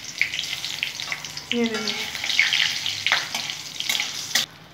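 Dried red chillies dropped into hot oil sizzle and crackle steadily in a pan, with a spoken line over the frying and a few scrapes and clinks near the end.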